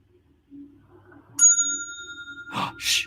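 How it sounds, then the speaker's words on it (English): A bright bell dings once and rings on for a second, then a few scuffs and rustles follow nearby. "I heard a bell."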